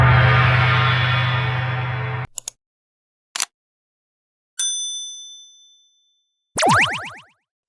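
Synthetic notification chimes: a sustained tone cuts off, then a few short ticks, a bright bell-like ding that rings out and fades, and a final springy boing, each clean and separate against silence.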